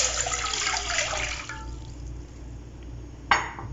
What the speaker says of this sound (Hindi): 2 कप मैंने पानी लिए हैं।